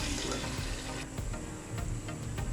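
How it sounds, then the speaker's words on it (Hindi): Water is poured glass by glass into a pot of keema pulao rice, a splashing gush that trails off around midway before a second, lighter pour follows. "अभी हम इसमें पानी शामिल कर देंगे"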